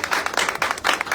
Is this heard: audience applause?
yes